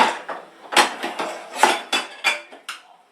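A metal spoon clinks and scrapes against a dish while serving No Fools pie onto a plate, a series of sharp, close taps and knocks spaced irregularly with no talking.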